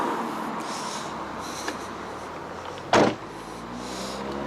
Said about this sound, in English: How you open a Koenigsegg, there is a button under the door.